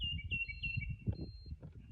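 A few short, high electronic beeps chirp from a Lowrance Ghost trolling motor entering configuration mode, over low background rumble and handling noise, faint and close.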